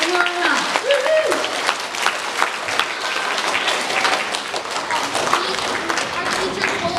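An audience gives a speaker a big round of applause at a talk, steady dense clapping with whoops filling the whole stretch, while a host's voice calls out over it.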